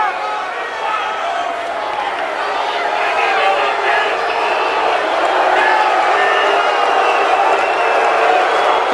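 An arena crowd at a 2011 WWE Monday Night Raw wrestling show boos a wrestler, building to a loud, steady roar that fills the whole stretch.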